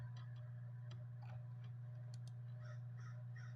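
Crows caw in short, faint bursts outdoors over a steady low hum, with several calls scattered through the stretch and a faint ticking in the background.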